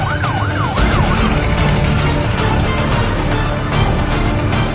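Police vehicle sirens wail during a night raid, a loud rising-and-falling siren sweep up close over the steady rumble of engines and traffic, continuing throughout with no talk.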